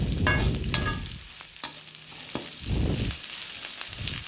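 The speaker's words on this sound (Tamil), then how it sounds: "இது நல்லா வதக்கிக்கோங்க." Chopped bottle gourd and crushed garlic sauté in a pan, giving a soft continuous sizzle broken by scraping stirs and a few sharp clicks of a spoon against the pan, close and moderately quiet, with no voices.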